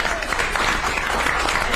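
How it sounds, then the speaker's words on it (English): A brief burst of steady clapping rises from the crowd at a regional transportation funding town hall at Fresno State. "let's give a round of applause for yourself now"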